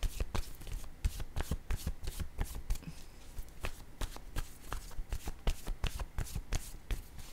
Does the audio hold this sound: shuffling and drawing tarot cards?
yes